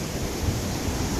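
A flowing river at Bridal Veil Falls, Utah, during spring runoff, heard as a steady broadband rush of water, fairly loud and continuous. Some wind buffets the microphone, and no voices can be heard.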